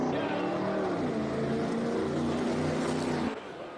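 A classic Alfa Romeo rushes past at a Speed Classic motor event in Cape Town, its engine a loud, sustained drone that holds steady and then drops away abruptly near the end.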